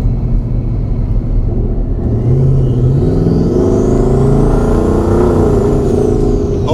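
Ford F-150 with a twin-turbo sleeper kit accelerating with its exhaust cutout open, a loud, steady engine roar that climbs in pitch as the revs rise, with a faint turbo whistle over it.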